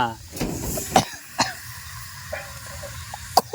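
A person coughs a few times at home, short harsh bursts near the mic against a noisy background, with brief speech around them.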